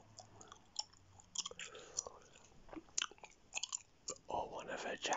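Gum being chewed close to the microphone in an ASMR setting, with soft wet smacks and crunchy bites in an irregular rhythm, some louder bursts near the end, with faint whispered rambling in the background.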